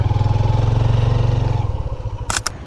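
A motorcycle engine idles loudly and close by with a steady low pulsing throb while the bike is parked in Bagrot Valley near Gilgit, Pakistan, then winds down and is followed by two brief sharp clicks.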